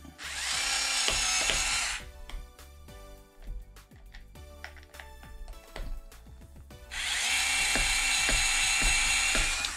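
A small power driver whirs in two long, steady bursts at the start and end while screwing a nut onto a beadlock wheel of a Cross RC HC6 US Army scale truck, with clicking and handling of parts between.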